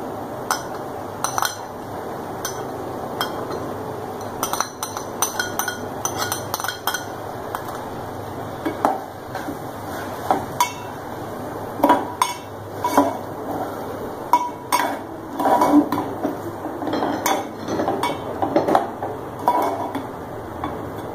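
A spoon clinks and scrapes against a pan while chicken is mixed with lime juice, chopped coriander and green chillies, with irregular metallic taps and stirring close by and no talking.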